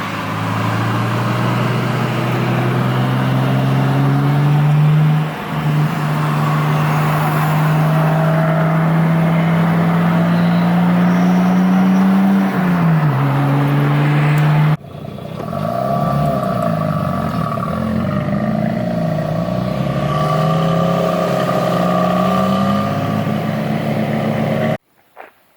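JDM cars cruising, a Mitsubishi Evo 4 and a Nissan 180, with a loud steady engine drone that rises and falls in pitch through gear changes and speed shifts, continuous and close, ending abruptly.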